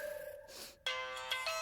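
A mobile phone rings with an incoming call, a melodic electronic ringtone with bright tonal notes that starts softly, pauses briefly, then returns louder and fuller, close by and with no talk over it.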